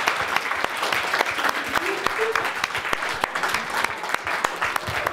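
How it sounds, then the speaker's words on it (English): A hall full of teens at a Friday evening worship retreat claps for the staff, steady dense applause lasting throughout, close and loud, with a few voices faintly mixed in. "Let's give our staff a round of applause."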